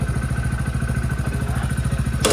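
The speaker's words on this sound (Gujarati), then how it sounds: "આપણું બાઇક થઈ ગયું રેડી આ સેલ માર્યો બાઇકનો" A Hero Splendor motorcycle engine, just self-started, idles with a steady, close, rhythmic putter, and a brief louder burst at the very end.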